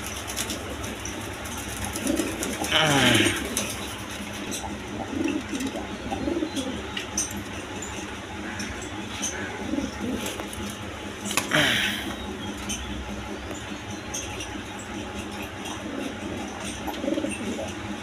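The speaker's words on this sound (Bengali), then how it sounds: "দর্শকবৃন্দ এখানে এক পেয়ার রেশার কবুতর আছে" A pair of racing pigeons coo softly and repeatedly at close range, with a couple of sharper rustling bursts among the low, throaty calls.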